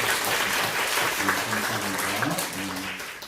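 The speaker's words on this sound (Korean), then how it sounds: "환영 박수." Church congregation applauds in welcome for newly registered and baptized members during a Sunday Easter worship service, a steady wash of clapping from a large room with faint voices beneath.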